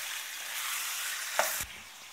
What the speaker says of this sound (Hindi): इधर हमारा चिकन अलग से भून रहा है।